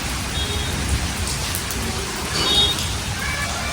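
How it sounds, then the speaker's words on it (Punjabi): Heavy rain pours steadily, making a dense, even hiss of drops hitting surfaces nearby that swells slightly at moments. "ਤੁਸੀਂ ਦੇਖ ਸਕਦੇ ਹੋ بارش ਕਾਫੀ ਪੈ ਗਈ ਆ"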